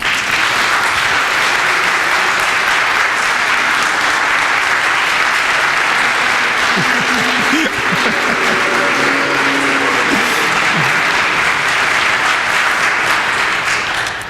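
An audience applauds steadily to welcome comedian Lew Montgomery onto an interview stage on Father's Day weekend, a dense, loud wash of clapping throughout with some faint voices and whoops rising briefly in the middle.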